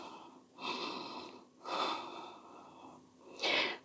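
Slow deep breaths during a yoga practice: three long inhale and exhale cycles, close and soft, with no talking.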